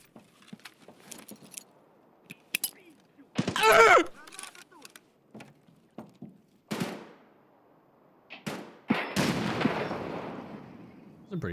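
A grenade goes off in a video game with a loud, rumbling blast that tails off, amid scattered sharp shots, clicks and other gameplay noises; an earlier burst of noise comes before it.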